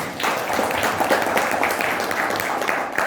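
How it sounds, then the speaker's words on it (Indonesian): An audience applauds Pak Dono at a research seminar session, with steady, dense clapping from a roomful of people that holds at the same level for the whole stretch. "Beri aplaus dulu kepada Pak Dono"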